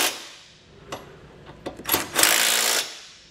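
A ratchet and 15mm socket tightening factory bolts while installing a Curt trailer hitch receiver on a 2021 Ford EcoSport, heard as a few sharp clicks and then a sustained metallic whirring, close and fairly loud.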